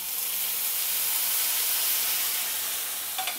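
Warm water poured into an onion-garlic masala on the stove makes a steady, loud hiss and sizzle as it boils up, continuous and close, with no voices.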